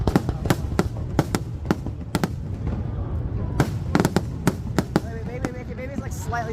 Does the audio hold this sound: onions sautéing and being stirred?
no